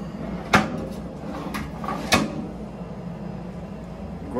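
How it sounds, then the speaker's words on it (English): A double drawer in a custom 8 x 10 booth is opened and shut, giving two sharp wooden knocks about a second and a half apart, with fainter sliding bumps between them, close and clear in a quiet room. "It's a double drawer."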